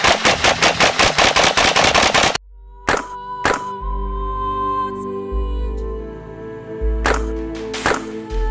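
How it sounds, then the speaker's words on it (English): A rapid burst of automatic gunfire aimed at bulletproof gear, a loud machine-gun-like run of evenly spaced shots for about two seconds, followed by a few single sharp cracks ringing out over a humming background. "They wouldn't just shoot one shot at you."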